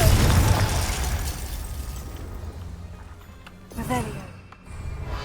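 A Confringo fire spell bursts in Hogwarts Legacy, a loud, dense explosive blast at the start that rumbles and decays over several seconds, with a voice briefly heard partway through.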